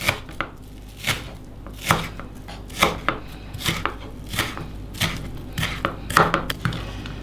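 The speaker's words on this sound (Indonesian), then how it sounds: "Kita potong-potong dulu. Bawang bombaynya dipakai setengah aja," A knife chopping half of an onion on a cutting board, about a dozen sharp, close knocks in a loose, slightly uneven rhythm with quiet kitchen background between strokes and no talk.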